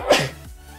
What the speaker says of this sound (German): Und jetzt muss ich niesen.